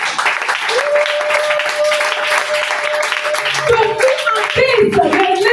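A church congregation applauds and claps at a French-language worship service, a dense, steady wash of hands lasting throughout, with a sustained sung or held tone and some voices mixed in.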